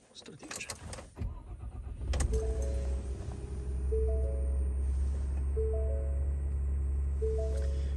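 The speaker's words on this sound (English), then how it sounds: "Start the engine." A car engine cranks and catches after a door thud and clicks, then settles into a steady low idle with faint intermittent electronic chimes overhead.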